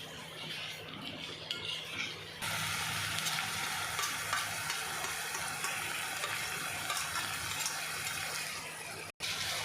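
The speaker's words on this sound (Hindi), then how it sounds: "अच्छे से इसको भून कर कीमा डालना है इसमें" Keema sizzles and fries in a pan while being stirred, a bright crackling hiss that swells sharply after the first couple of seconds and continues densely with scraping stirs.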